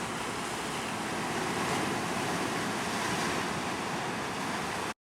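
Ocean waves roll onto the rocky coastline at Berwick Park in Monterey, a dense, steady wash of surf with wind noise that cuts off abruptly at the end.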